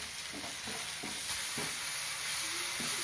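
Tomatoes sautéing in a pan for an egg masala curry, a steady frying sizzle with a spoon stirring and scraping at a loose rhythm, close and alone.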